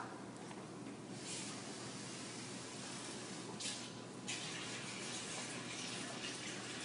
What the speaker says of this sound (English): let's go ahead and put the water in there